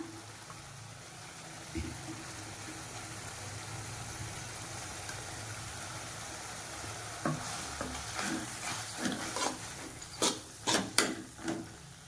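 Minced meat sizzles steadily in masala in a hot pan, and partway through a utensil starts stirring and scraping, with sharper clanks toward the end.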